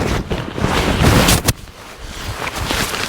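Strong gusts at a desert campsite buffet the microphone in a loud, roaring rush for about a second and a half, then ease into a lower, steady blowing.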